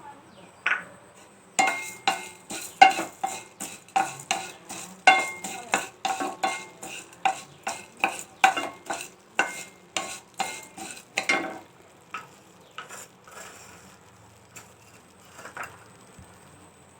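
Coriander seeds dry-roast in a pan, stirred briskly with a metal spoon, a rapid run of close scraping clinks that stops after about eleven seconds and gives way to a few sparse knocks.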